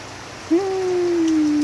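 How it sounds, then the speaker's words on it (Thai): Rain falls steadily at an outdoor selling stall, a dense, even hiss close by, with a sustained voice-like tone that starts about a third of the way in and slowly glides lower. "สนุกจังเล ย ขายของฝนตก"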